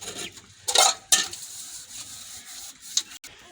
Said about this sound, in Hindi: ये जी हो रहे बर्तन हमारे वाश